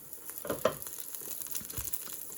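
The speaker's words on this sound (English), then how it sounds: "This sound of frying is probably a bit too much." Steady crackling sizzle of pizza frying in a pan, continuous and fairly close, with a few sharper pops.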